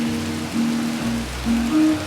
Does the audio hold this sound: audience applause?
no